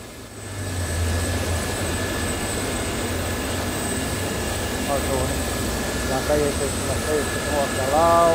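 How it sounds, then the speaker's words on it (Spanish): A Gazelle helicopter in a flight simulator game over Normandy gives a steady whirring engine and rotor drone throughout, with faint warbling tones near the end, and no speech on top. "Estoy viendo de este helicóptero."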